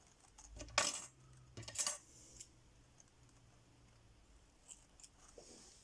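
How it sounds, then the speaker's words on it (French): Scissors snip a small piece of material for a tulle-framed handmade card, two quick crisp cuts close by, followed by quiet handling. "je vais en couper un tout petit bout"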